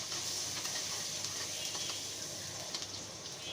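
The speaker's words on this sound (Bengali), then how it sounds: "তেলের মধ্যে পেঁয়াজটা ভেজে নিব।" Chopped onion sizzles steadily in hot oil, the first step of a snake gourd and shrimp fry, with a continuous close frying hiss and faint stirring.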